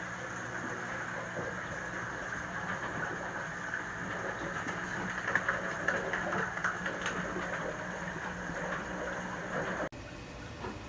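Rain falling outdoors makes a steady, dense hiss that holds at an even level for about ten seconds, with no voices, before the sound cuts off abruptly.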